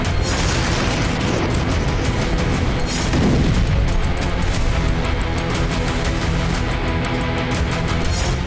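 Missile strikes exploding on a Black Sea Fleet naval base: a continuous, dense roar of blasts and rumbling booms, loud and distant-sounding, with no pause throughout.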